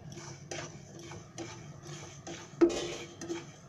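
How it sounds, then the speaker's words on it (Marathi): White sesame seeds dry-roasting in a pan, heard as a quiet series of dry scraping and tapping strokes from a spoon moving the seeds against the metal, with faint crackle between. "हे तीळ कसे उडतात भाजल्यावर"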